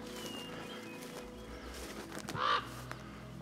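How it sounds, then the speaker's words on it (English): Crows call in an outdoor hillside setting at Coloma, with one brief, fairly distant caw rising over steady background noise and low rumble. "Crow sentries."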